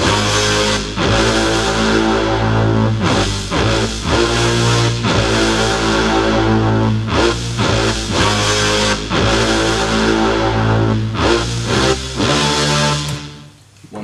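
Stacked orchestral horns punch out a brassy, sustained phrase in a beat, loud and dense, with repeated swelling chords separated by brief gaps before fading at the end.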